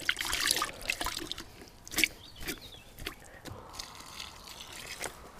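Newly planted tomato plants are watered in outdoors, with close trickling and splashing water in uneven bursts over soft background noise.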